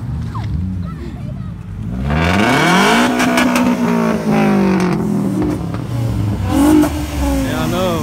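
A car doing a tire burnout at a parade: the engine revs hard and roars with a rising, rough whine of spinning tires, loud and close, with people's voices mixed in.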